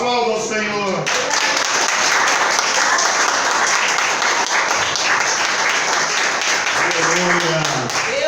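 Sustained applause from a church congregation during a sermon fills most of the stretch, with a voice speaking briefly before it swells and again as it fades.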